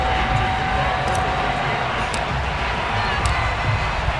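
A sold-out stadium crowd at Gillette Stadium in Foxborough roars in a steady, dense wash of cheering as the Patriots take the field against the Baltimore Ravens, loud and continuous with no breaks.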